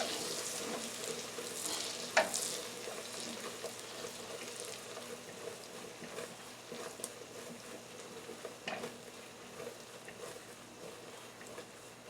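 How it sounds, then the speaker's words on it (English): Marshmallows stirred into melting butter in a pan give a steady soft sizzle, with spoon scrapes and one sharper clink near the start, continuous and fairly close. "you want to keep constantly stirring the marshmallows into the butter until it melts"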